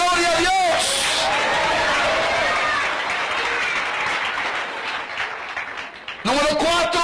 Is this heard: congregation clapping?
yes